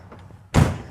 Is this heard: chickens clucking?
no